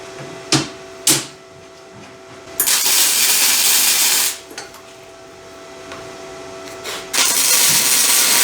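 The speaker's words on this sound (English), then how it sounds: "So I'm just gonna follow the instructions and get this thing welded up." A welder tack-welds steel gas tank skid plate pieces for a third-generation Toyota 4Runner: two short crackling bursts, then longer sustained buzzing welds separated by a quieter pause, loud and close.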